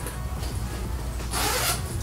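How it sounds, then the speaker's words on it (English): A zipper is pulled closed on a portable foldable steam sauna, with a soft close rasp that brightens into a short hissing zip near the end, faint over low room noise. "Close up the zipper right here."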